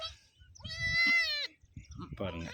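A young goat kid trying to drink milk lets out a loud, quavering bleat up close, one long wavering cry and then a shorter one, with a person talking in between.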